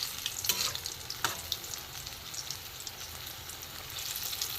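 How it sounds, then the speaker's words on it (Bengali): Mango fritters deep-fry in hot oil for a second, crisper round, a dense even sizzle and bubbling heard up close, with a couple of sharp utensil taps near the start and no speech. "দ্বিতীয়বার একটু কড়া করে ভেজে নিই"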